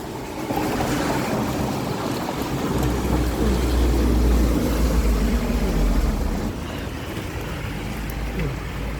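Strong typhoon wind roars and buffets continuously, with a heavy low rumble that swells in the middle and eases toward the end.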